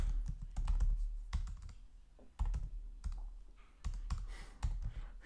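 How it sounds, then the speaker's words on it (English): Someone types in bursts on a computer keyboard while coding a game, with clusters of sharp clicks separated by short pauses, close and clear with no talking. "Can't type today."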